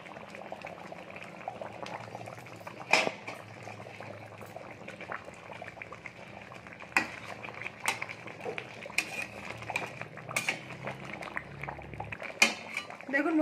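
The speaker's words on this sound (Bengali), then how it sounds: "এবার আমরা এটাকে 10 থেকে 15 মিনিটের জন্য ভালো করে ফুটিয়ে নেব" Chicken leg piece curry simmering and bubbling in a pot, a low steady boil with occasional sharp clinks of a spoon or utensil against the pot, no talking.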